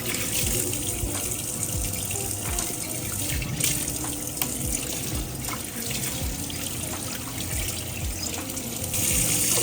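Salted milkfish rinsed quickly under a running kitchen tap, a steady close gush of water splashing into a sink with small trickles and drips, continuous and fairly loud throughout.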